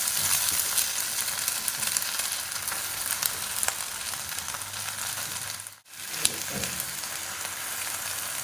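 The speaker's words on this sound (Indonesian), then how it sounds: "Dan di sini aku mulai masukin seasoning untuk sayur tumis pokcoynya" Bok choy stir-fries with seasoning in a pan, a steady close sizzle with faint stirring clicks that briefly drops almost to silence before the frying hiss returns, with no voices.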